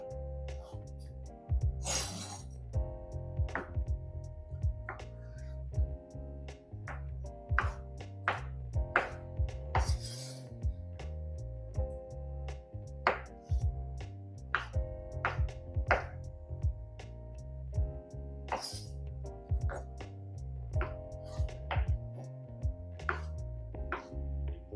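Tofu cut into cubes with a knife on a board, a steady series of distinct chopping taps at varying pace, close and clear, set against a sustained low hum.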